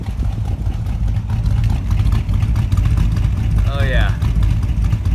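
A 1957 Ford Fairlane with a manual gearbox, sitting in neutral, idles with a steady, deep, throaty exhaust rumble close by, while someone briefly speaks over it.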